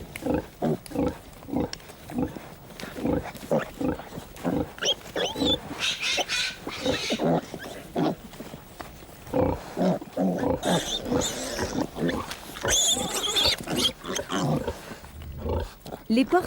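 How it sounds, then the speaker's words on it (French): Piglets jostle and suckle at a sow lying on her side on an old-fashioned farm, giving continuous close grunting and squealing in dense rhythmic bursts, loud throughout, with a voice talking over it. "tous les petits se jettent goulûment sur ses mamelles pour téter le lait"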